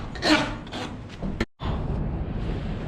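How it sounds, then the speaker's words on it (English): A rasp files the head of a very old sledge hammer in a few rough strokes, close and scraping, with a brief clatter and a moment of silence before a steady background hiss returns. "File down the other side now."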